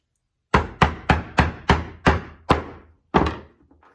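Light taps seat a bullet in a Lee Loader hand reloading tool: seven crisp, evenly spaced knocks, a brief pause, then one final tap, all close and clear.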